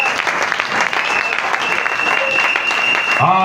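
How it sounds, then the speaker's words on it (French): A church congregation breaks into loud, sustained applause for Jesus during a French-language Sunday service, with voices cheering over the clapping. "Acclamez très fort pour Jésus."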